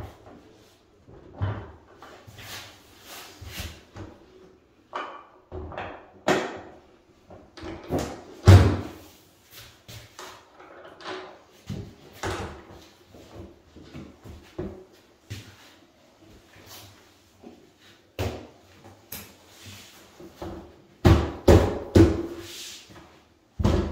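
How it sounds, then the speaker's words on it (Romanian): A wooden door leaf being fitted onto its hinges gives sharp knocks, thumps and clatters in irregular bursts, close and fairly loud, with quieter scraping between them. "acum venim cu blatul de ușă și pur și simplu îl introducem în gaur"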